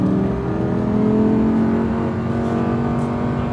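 A V10 Audi R8 accelerates hard through a series of S-bends on a track, its engine holding a loud, steady, rising drone from inside the car.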